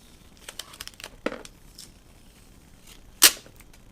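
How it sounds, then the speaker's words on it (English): A pickup sticker being peeled off a new GoPro Hero 5 Black box, a few soft crinkling, tearing rips ending in one sharp, loud snap of paper, heard close and alone. "So they've put on a sticker for my order pickup. Let's peel those off."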